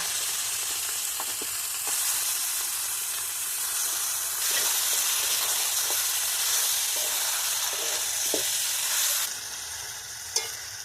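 Meat and green chillies frying together with tomatoes in a pan, a steady loud sizzle with hissing steam and occasional stirring clinks, continuous throughout with no talk.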